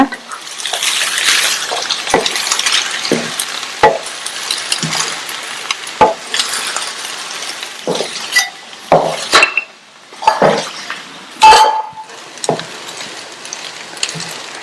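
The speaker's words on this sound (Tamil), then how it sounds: "சாதம் சூடு ஏறுற வரைக்கும் மெதுவா இந்த மாதிரி கலந்து கொடுங்க." Cabbage rice being stirred in a pan on a low flame, with a spoon scraping and knocking against the pan in irregular, close, fairly loud strokes over a faint soft background wash.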